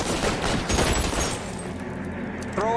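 Rapid gunfire in the crime game L.A. Noire, a dense burst of overlapping shots that fades into quieter ambience near the end.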